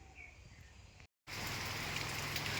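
Steady rain hisses close by, briefly cut off and then returning louder and denser.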